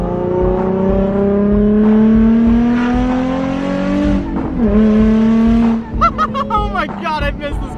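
Car accelerating hard on a test drive, its engine note climbing loudly through one gear, briefly dipping at a shift, then pulling again before excited voices talk over it at the end.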